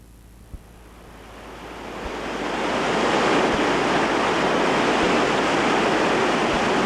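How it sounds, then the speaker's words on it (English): Roar of the Old Nasty whitewater rapid on the Cheat River, with its large central hydraulic, swelling from a moderate rush to a loud, steady wash of churning water and no voices. "There's a huge hydraulic in the center of the river."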